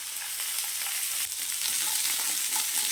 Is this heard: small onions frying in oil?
yes